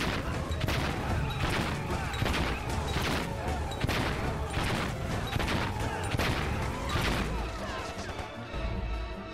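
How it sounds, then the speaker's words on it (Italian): Bombs firing in Valiant Hearts produce a steady barrage of loud, repeated booms and crashes, one after another in quick succession over a dense battle backdrop. "Adesso spara le sue bombe, spara le tue bombe."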